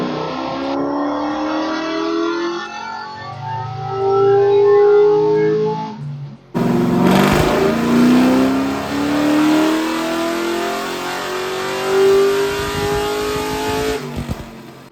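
LS3-powered Chevrolet squarebody truck on a chassis dyno, engine revving hard through a pull with a rising pitch, a brief break near the middle, then a second sustained climb, loud and close with no talking.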